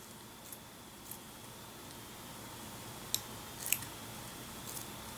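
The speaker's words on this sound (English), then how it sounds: "Just take a pair of scissors. We're going to hack some of this off." Scissors snipping through craft material for a model-making project, a few quiet, sharp cuts clustered together against a faint hiss of background noise.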